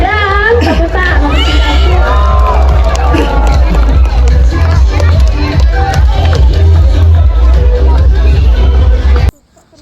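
A crowd of children and adults at a Taman Safari animal show, Indonesia, cheers and shouts loudly for the full stretch, with voices calling over a dense babble and only scattered clapping, before cutting off abruptly at the end.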